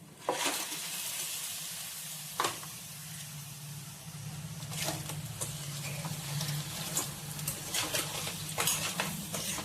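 Crabs tossed into a pan of browned onions for a home-style crab curry sizzle and fry steadily, with occasional sharp clinks and stirring scrapes over a continuous hiss.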